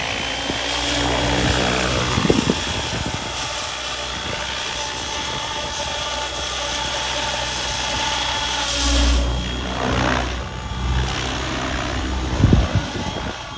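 A Goosky RS6 RC helicopter, converted from an RS5, spools up at low head speed with a steady, close whine of rotor and motor that holds throughout, with a few brief bumps.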